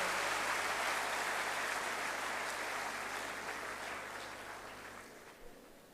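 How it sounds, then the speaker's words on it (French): Steady, even audience applause at a ceremony with a minister present, continuous and somewhat distant, tapering off toward the end. "Je ne sais pas si les applaudissements sont réservés au ministre ou au public,"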